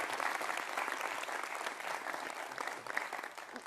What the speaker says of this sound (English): round of applause for like half the room